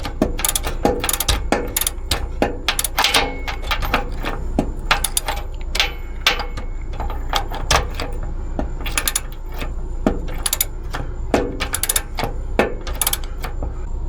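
A ratchet wrench turns a bolt on a Workhorse P32 motorhome's 4L80E transmission during servicing, giving close, loud bursts of rapid metallic clicking in irregular repeated strokes with short pauses between them.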